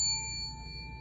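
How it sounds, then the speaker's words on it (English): A hand bell rung once and left to ring, its clear tone sustaining and slowly fading over a low background hum. "and when I ring the bell"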